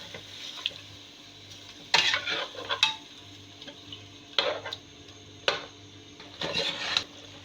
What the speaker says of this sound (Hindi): दही डालकर इसको मैं भूनूंगी थोड़ा।